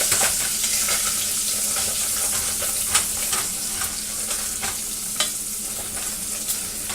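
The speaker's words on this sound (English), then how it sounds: "I got a little bit of bacon here that's stuck to the bottom. So just kind of stir it up." Bacon sizzles in a pot for clam chowder while a utensil stirs and scrapes bits stuck to the bottom, a steady close hiss with scattered scraping knocks and no speech.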